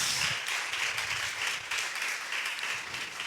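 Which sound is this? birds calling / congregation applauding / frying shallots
congregation applauding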